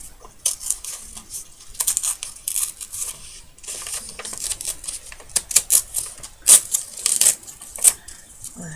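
Paper being cut while making a vintage-style window envelope for scrapbooking: a close series of crisp snips and papery crackles, irregular and getting sharper toward the end, with no talk.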